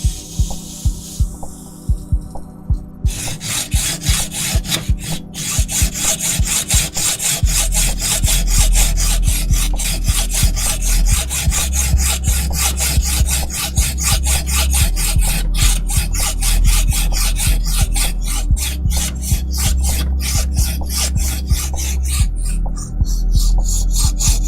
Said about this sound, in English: Magnets are way harder to cut than I expected them to be.